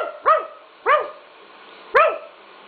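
A dog barks at a toy bear in three sharp, clear barks spaced about a second apart, close and loud against a quiet room.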